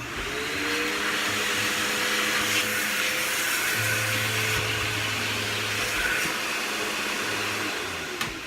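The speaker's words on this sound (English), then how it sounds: "I'm going to hit that with the vacuum" A vacuum cleaner runs steadily and loudly in a kitchen, sucking up coffee-mix crumbs, its whine holding constant with slight pitch shifts as the nozzle moves.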